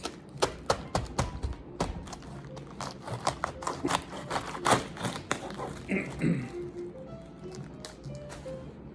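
A knife chops and slices through a fresh green cabbage on a board, giving a quick series of crisp taps and thuds with short pauses, close and fairly quiet.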